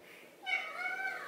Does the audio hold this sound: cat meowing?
yes